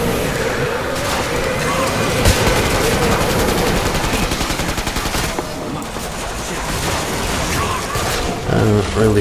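Sustained automatic fire from the HMTech 401 medic assault rifle in the shooter game Killing Floor 2, loud continuous bursts of rapid shots with explosive booms and game effects layered throughout, briefly easing before another burst.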